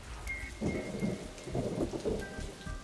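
Rain and thunder created as a weather effect for film: dense steady rainfall hisses throughout while low rumbling thunder rolls beneath it, with no voices.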